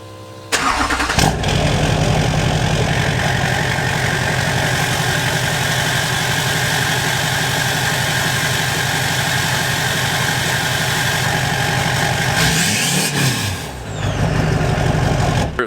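A Duramax diesel truck engine idles loudly and close up in a steady, rumbling drone that runs almost the whole time. It starts with a brief cranking burst, and there is a short dip and rev wobble near the end.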